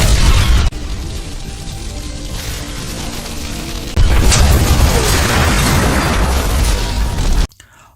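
A bomb goes off in a film scene, a loud sustained roaring blast with rumbling debris filling several seconds after an earlier burst, then cutting abruptly to near silence at the end.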